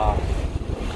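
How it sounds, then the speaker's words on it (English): Strong wind gusting up to 24–25 knots buffets and roars across the microphone aboard a sailboat at sea, with gusty low rumbling and a faint voice underneath. "the wind's now gusting up to 24, 25"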